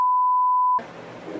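A censor bleep sounds, one loud pure tone lasting about three quarters of a second, then cuts off into a murmur of room noise.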